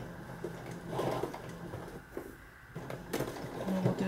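A sewing machine runs in short bursts while stitching a make-up bag, a rapid mechanical whir that stops and starts with small clicks, and a voice speaks briefly nearby.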